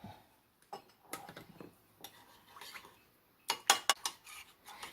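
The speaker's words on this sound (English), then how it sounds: "You're going to mix all of that up in your beef sauce until the cornstarch is dissolved." A utensil stirs beef sauce with cornstarch in a crockpot, giving sparse, quiet clinks and scrapes against the pot, with a quick cluster of sharper taps near the end.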